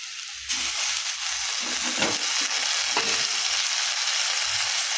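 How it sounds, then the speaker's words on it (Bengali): Chowmein is stir-fried in a pan, giving a loud, steady sizzle with rhythmic scraping and tossing strokes from stirring, close up and without talk. "চাউমিনটাকে ভালো করে এর সঙ্গে নেড়ে আর ভেজে নেবো"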